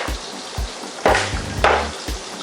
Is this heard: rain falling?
no